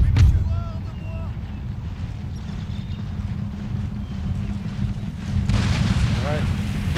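Artillery firing canister shot in Empire: Total War comes through as deep, rumbling booms over a constant battlefield roar, with a louder burst near the start and another late.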